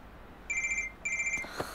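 Telephone ringing in a drama scene, two short electronic trilling bursts in quick succession, clear and moderately loud, followed by a faint click.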